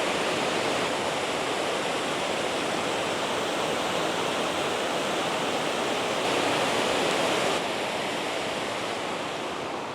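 A creek pours over a small dam on its way into Lake Delton in Wisconsin Dells, making a constant, even roar of rushing water, full and close throughout with no talking.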